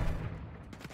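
Rapid gunfire from Modern Warfare 3 rattles in a dense, booming burst that fades over one second, heard close and loud.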